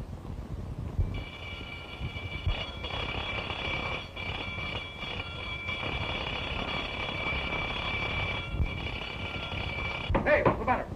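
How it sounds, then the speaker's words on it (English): A continuous electric alarm bell rings steadily for several seconds, with a clattering burst near the end, in a 1931 film. "Sound the alarm. Quick."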